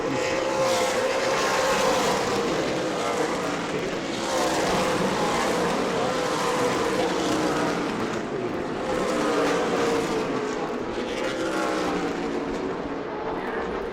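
Race cars roar along the main straightaway at New Smyrna Speedway, a loud, continuous engine drone that stays near and steady throughout.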